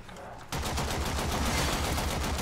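Rapid automatic gunfire from the Warframe shooter game starts abruptly and rattles on continuously, loud and dense, with no pause between shots.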